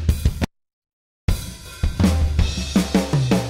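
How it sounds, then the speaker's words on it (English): A software rock drum kit in Superior Drummer 3 plays a short burst of punchy kick, snare and cymbal hits, cuts to silence, then resumes with a steady rock beat. "There's a classic rock kit."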